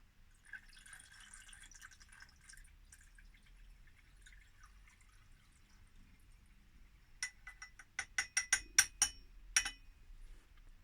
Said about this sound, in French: Donc on replace la phase aqueuse dans l'ampoule.